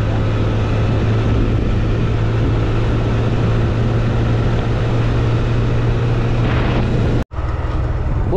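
A motorbike ridden fast along a village road: a loud, steady engine drone with rushing wind runs without a break, then cuts out sharply for an instant near the end before resuming.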